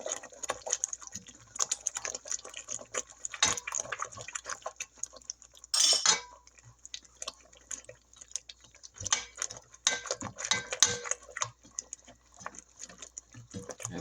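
A spoon scrapes and clinks around a bowl as cake mix for a German chocolate praline cake is stirred, giving steady, uneven patter with a brief louder knock partway through.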